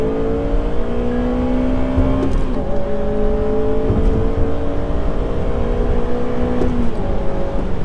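A stock Honda Civic FN2 Type R accelerates hard, its engine note climbing steadily through the revs in a loud, close whine, with a brief dip at a gear change before rising again; no talking.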